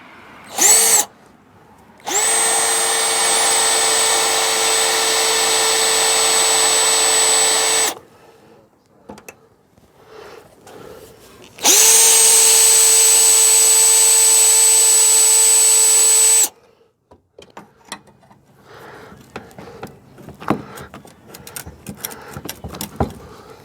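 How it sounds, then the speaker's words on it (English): A power drill whines steadily through metal on a radiator core support in two long bursts of several seconds each, loud and close, with clattering and handling noise between and after. "I'll drill through butter"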